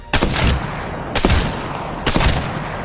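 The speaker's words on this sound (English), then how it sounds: "What I like to do with a longbow as well in-game is, getting really up close to the target, hip firing, while strafing or jumping around." Three heavy, booming rifle shots from the Longbow marksman rifle in Apex Legends, hip-fired about a second apart, loud and close with long decaying tails, with no talk.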